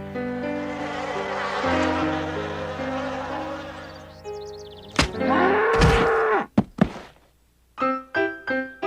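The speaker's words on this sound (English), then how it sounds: "It's a cow." Cow mooing in an animated cartoon, a long low drawn-out moo sustained for several seconds, followed by sharp thuds and scattered cartoon sound effects.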